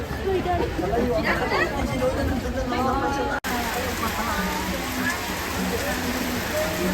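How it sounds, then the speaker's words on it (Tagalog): Heavy rain pours down in a dense, steady roar at the Igorot Kingdom in Baguio, with voices chattering underneath throughout. "Kasi sobrang lakas ng ulan dito sa Igorot Kingdom."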